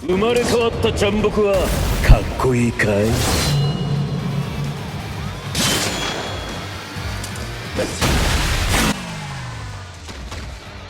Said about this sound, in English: Let's show his soul bomb here first